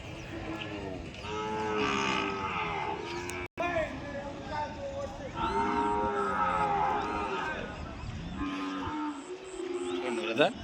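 Calves bawl and moo repeatedly at a Sunday cattle market, with several long, loud calls overlapping close by and a busy murmur behind them.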